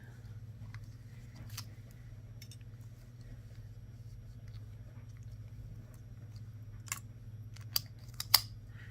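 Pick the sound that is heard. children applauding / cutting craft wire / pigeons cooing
cutting craft wire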